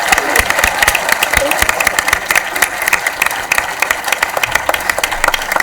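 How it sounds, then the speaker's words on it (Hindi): Loud, steady applause from a quiz show audience after a correct answer in the final round, dense rapid clapping that holds at full strength throughout. "जोरदार तालियां, ब्रिलियंट आंसर।"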